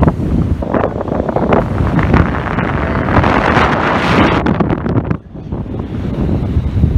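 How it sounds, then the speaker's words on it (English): Strong wind on a Louisiana causeway before a storm buffets the microphone in heavy, rumbling gusts, with a roar like surf behind it and a brief lull near the end. "You're gonna hear the wind."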